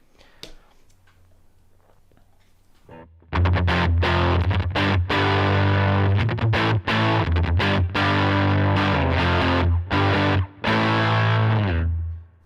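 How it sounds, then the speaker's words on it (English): Heavily distorted electric guitar played loud through a Line 6 HX Stomp amp model, chugging rhythmic chords with brief choppy gaps after a quiet start. "That is a pretty decent alternative dirty tone."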